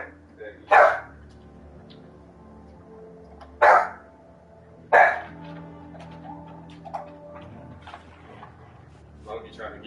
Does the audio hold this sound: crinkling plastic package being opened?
no